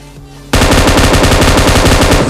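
Sustained rapid burst of M249 machine-gun fire in a video game starts abruptly after a short quiet lead-in, loud, close and continuous to the end.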